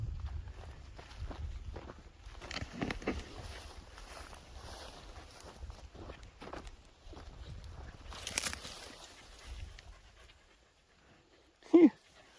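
Two dogs, once water dogs, wrestle and romp outdoors at sunset, with steady close panting, scuffling footsteps and a sharp yelp near the end.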